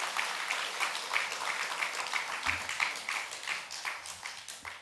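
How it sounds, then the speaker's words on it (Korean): A church congregation claps along in a steady rhythmic beat at an Easter revival service, even repeated hand claps throughout, moderately distant and without talk. "여러분 몇 분이 박수 치면 다 치시죠?"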